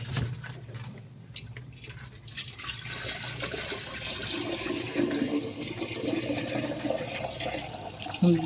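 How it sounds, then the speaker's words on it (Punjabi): Water from a bucket splashes and gurgles into a container for pigeons, a continuous rushing pour that builds and grows fuller toward the end, close by with no voices. "ਤਾਹੀ ਪਾਣੀ ਬਾਲਟੀ ਭਰਦੀ ਆ ਤੇ ਚੱਕ ਕੇ ਹੁਣ ਪਾਉਂਦੇ ਆ ਪਾਣੀ"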